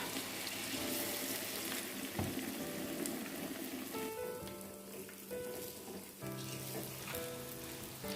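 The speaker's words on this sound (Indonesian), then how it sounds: "Selanjutnya tinggal digoreng." Tempeh slices coated in flour and seasoning sizzle steadily in hot frying oil, a dense, even crackle that continues throughout with no talking.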